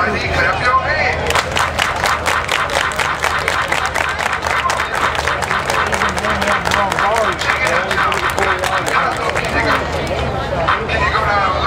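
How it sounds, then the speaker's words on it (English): An audience at a lively party event claps hands together in a steady, rhythmic beat, loud and sustained, with crowd chatter and cheering mixed in throughout. "Everybody clap your hands."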